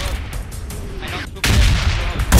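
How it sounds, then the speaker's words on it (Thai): Gunfire in the video game PUBG Mobile crackles in rapid bursts, loud and close, with a sharper volley near the end, partly under a player's voice. "เดี๋ยวนะเขายิงจากตรงไหนวะ"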